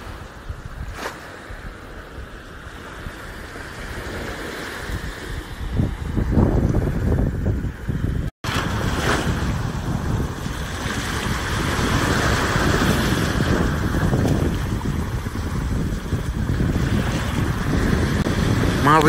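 Sea waves wash steadily along a North Coast marina in Egypt, with broad surf and wind noise across the microphone, loud and continuous with a short dropout partway.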